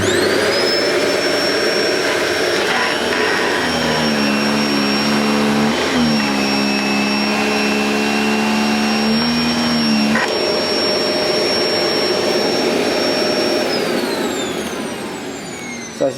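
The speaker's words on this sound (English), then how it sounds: "I lower the handle into the cleaning position," A Hoover One Performer vacuum cleaner runs loud and close with a steady high whine as the brush bar spins up and then spins down, the motor note shifting as the head is lowered onto carpet.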